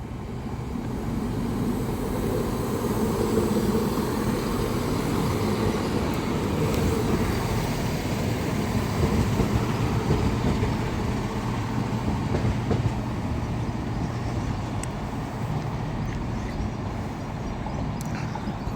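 An East Midlands Railway passenger train on the Newark Northgate to Peterborough service rumbles past at close range, a continuous heavy rolling roar with faint wheel clatter, steady throughout.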